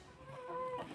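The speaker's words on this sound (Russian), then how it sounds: "Курочек можно покормить." Chickens in a village yard in southern Russia give a brief, faint cluck and a short drawn call.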